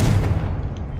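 A Confringo blasting spell explodes in the Hogwarts Legacy video game as a single short, loud boom that quickly decays.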